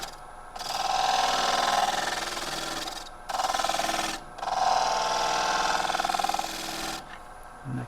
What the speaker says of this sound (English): Little pointy gouge here, just coming around the edge here.